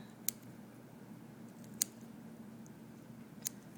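Scissors snipping through tissue during a rat dissection, three sharp, quiet snips spaced well apart over a low steady background hum, with no talking.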